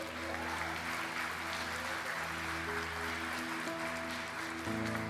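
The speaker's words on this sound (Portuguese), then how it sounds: "Quem crê assim pode dar uma salva de palmas para o Senhor" A congregation at a church service applauds in praise, a steady wash of clapping running throughout over sustained music.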